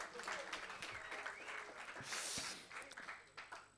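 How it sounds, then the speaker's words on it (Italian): Audience applause welcoming a guest author at a school talk with students, a dense, lively clapping crowd near and fairly loud, with a brief swell midway and some voices mixed in. "salutiamo con ovviamente un applauso introduttivo iniziale"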